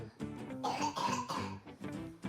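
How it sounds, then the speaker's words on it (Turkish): A child coughs several times in quick, rough bursts, close by and fairly soft, with a short pause between fits. "Öksür."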